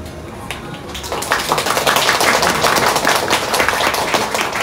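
Theatre audience breaking into applause, a brief patter of clapping swelling after a second into sustained, dense hand-clapping across the hall.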